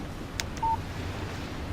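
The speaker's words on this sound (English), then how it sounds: "Text message from Barry." A short, clean electronic beep marks a text message alert on a phone in the video game Alan Wake, sounding once over a faint background hiss.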